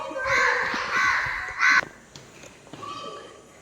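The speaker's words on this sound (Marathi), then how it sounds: "कावळे कशाला ओरडता" Several loud, harsh caws from crows nearby, a few calls in quick succession followed by quieter cawing.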